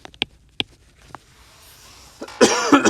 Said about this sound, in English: Have a little coughing issue.